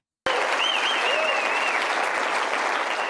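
Audience at the CPAC conservative political conference breaking into loud sustained applause that starts abruptly from silence and keeps up steadily, with a few whistles over the clapping.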